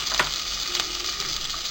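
Green chilli and curry leaves sauté in hot oil for a Kerala tapioca masala, a steady close sizzle with a few brief scraping clicks of a stirring spoon near the start and middle.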